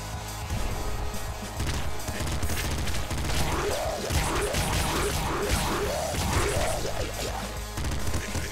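Rapid bursts of assault rifle fire in the video game Nuclear Throne, a fast run of punchy cracks and impacts in the middle of busy, loud game sound, with no voice over it.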